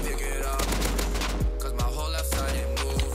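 Rapid gunfire in a competitive video game scrim, continuous dense automatic bursts and scattered shots under steady game audio, with occasional descending tones and no clear talk.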